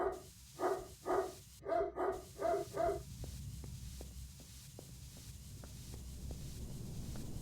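A dog barks in a video game set around a transit depot, six sharp evenly spaced barks up close, followed by a series of faint rhythmic ticks over a low hum.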